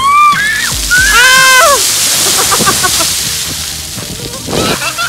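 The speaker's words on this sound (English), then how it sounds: "See if you can fill your bucket up with water." Water sloshes and splashes from a bucket outdoors, with bursts of splashing under excited children's voices and shrieks, loud and close.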